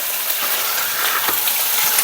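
Food frying in a pot of hot oil in a home kitchen, a dense, steady bright sizzle with small pops and crackles, close and loud, with no voices.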